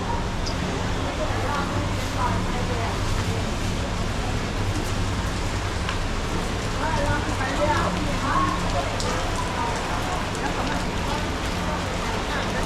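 Steady rain falls at an outdoor boat racing fair in Mukdahan, Thailand, a continuous broadband hiss with crowd murmur and distant activity underneath, while people talk in the foreground.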